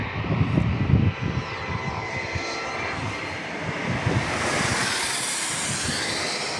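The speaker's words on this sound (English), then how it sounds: "Here is the FlexJet. The FlexJet charter." A FlexJet charter jet approaching San Diego International Airport, a loud broadband engine roar that rumbles low at first, then rises into a sustained whooshing hiss as it passes.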